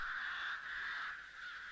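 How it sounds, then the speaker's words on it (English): Crows cawing in a rural farm field, a steady harsh caw that fills the short moment at moderate loudness with no talking. "Cries Rupert, waving the old hat at the crows."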